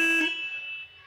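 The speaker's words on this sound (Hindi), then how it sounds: "काफ़ी हैवी हॉर्न है, जैसे बाइक हैवी है वैसी हॉर्न भी हैवी इसमें दिया गया है।" A single short blast from the heavy-sounding horn of a 2021 Royal Enfield Himalayan motorcycle, a steady buzzing tone that cuts off and fades quickly, heard alone and close.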